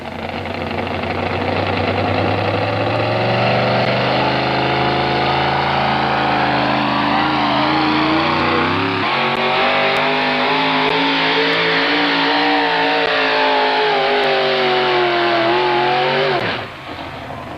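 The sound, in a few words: four wheel drive truck engine revving during truck pull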